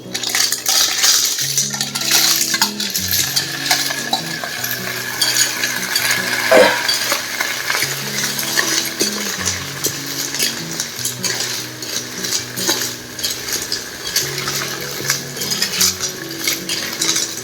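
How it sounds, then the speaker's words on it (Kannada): Clam shells are added to a pan of frying onions for a Mangalore-style clam sukka, producing loud, close, repeated clattering and clinking of hard shells against metal over a low background sizzle. "ಈಗ ನಾನು ಇದಕ್ಕೆ ಕ್ಲಾಮ್ಸ್ ಆ್ಯಡ್ ಮಾಡ್ತಾ ಇದ್ದೀನಿ"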